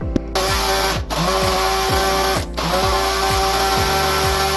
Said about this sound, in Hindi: अब ये सारे जो ब्रेड के एजेस हैं इनको हम डाल के अच्छी तरह से हमने ग्राइंड कर लेना